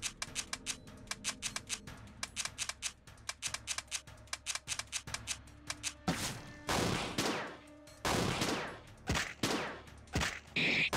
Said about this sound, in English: Oh, he took 2 shots at me.